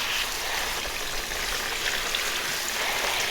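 Tie-dyed scrunch tees in deep orange, fire red and golden yellow are rinsed under steadily running water, a continuous close splashing hiss with no pauses or voices.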